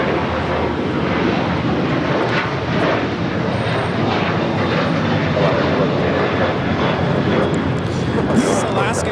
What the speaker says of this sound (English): This is Alaska Airlines 1147 taking off to Seattle on the 737-800.